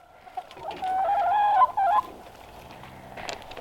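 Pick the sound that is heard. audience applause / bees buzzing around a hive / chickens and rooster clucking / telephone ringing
chickens and rooster clucking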